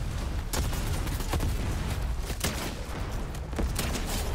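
Grenades going off in the Fortnite battle royale game as a dense run of loud, rumbling blasts and sharp cracks, several in quick succession with no break, with no voices over them.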